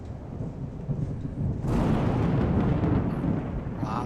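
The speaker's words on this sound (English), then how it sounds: "Wow, the thunder and the lightning is pretty." Thunder in a Cessna Longitude flight simulator: a low rumble swells into a heavy, sustained roar with a rain-like hiss, loud and continuous with no talking.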